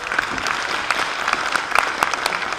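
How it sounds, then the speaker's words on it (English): Audience applause at a medical congress in Bonn, a steady dense burst of clapping from a seated crowd that carries evenly through the clip with no talk over it. "I think that we should award it with a great applause"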